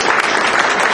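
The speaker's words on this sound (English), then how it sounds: "if you could just have a nice, loud, warm round of applause for our sister Yvonne Ridley" A lecture-hall audience claps loudly for Yvonne Ridley, a dense, continuous burst of applause heard close up with no talk over it.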